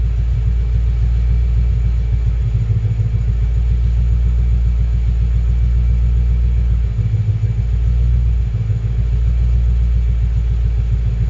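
A Lexus LS400 engine runs after a fuel pump replacement. It gives a steady, deep idle rumble close by, with a few brief low swells in the drone.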